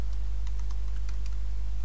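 Several quick keystrokes click on a computer keyboard over a low steady hum, a short burst of typing.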